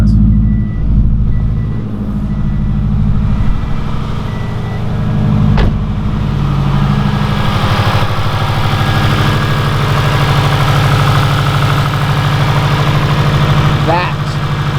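A Subaru WRX, just revived after a dead battery, idles while warming up, a steady close rumble of deep engine drone holding an even pitch throughout with a brief higher squeal near the end.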